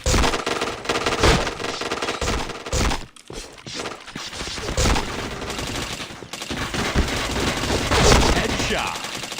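Rapid automatic gunfire from a shooting video game rattles on in dense, loud bursts with brief pauses, and a voice is occasionally heard beneath the shots.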